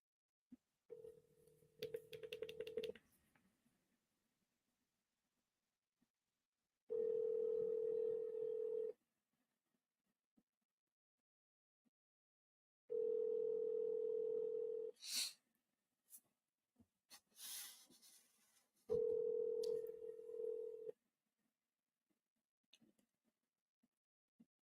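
An iPhone calling out with a ringback tone, steady purring rings in evenly spaced bursts separated by silence, with a few brief clicks and a short burst of other noise between rings, no talking.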